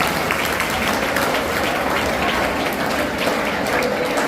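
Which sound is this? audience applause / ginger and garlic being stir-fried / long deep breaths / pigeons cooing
audience applause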